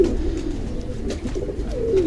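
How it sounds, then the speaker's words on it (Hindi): An old golden pigeon with a throat infection coos softly and low, a close, throaty murmur repeating over a quiet background. "एक कबूतर है हमारा, गोल्डन पुराना कबूतर है हमारा"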